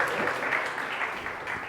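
A church congregation claps together in steady, moderately loud applause filling the hall.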